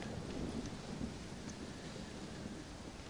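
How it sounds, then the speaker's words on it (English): Thunderstorm with steady heavy rain in the Red Dead Redemption Undead Nightmare video game, a dense continuous downpour hiss with low rumbling thunder, no voices. "Well, it's just the storm, John."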